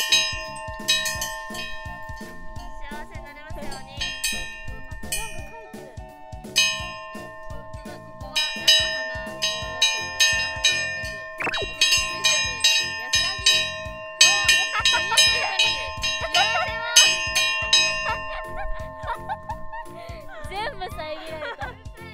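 Large shrine bell at a hot-spring area in Ibusuki, Kagoshima, struck repeatedly, each ring sustaining a long metallic hum under the next; young women chat and giggle throughout.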